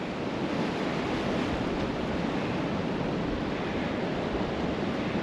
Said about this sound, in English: Definitely windy.